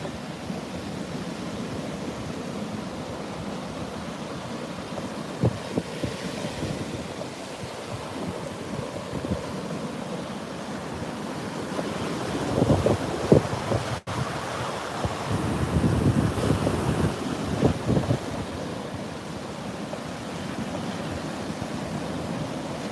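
Ocean waves washing ashore under steady wind at sunset, a broad continuous rush with swells building louder in the middle and trailing off again, no voices.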